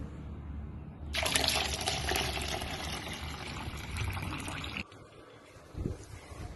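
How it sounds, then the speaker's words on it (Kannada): Water mixed with mustard cake powder gushes into a mug for a garden plant feed, a loud steady splashing pour that stops abruptly, followed by a couple of soft knocks. "ಮಿಕ್ಸ್ ಮಾಡಿಕೊಂಡು ಅದನ್ನು ಒಂದೊಂದೇ ಬೌಲಷ್ಟು ಅದನ್ನು ಒಂದು ಮಗ್ಗಲ್ಲಿ ಫಿಲ್ ಮಾಡಿಕೊಂಡು"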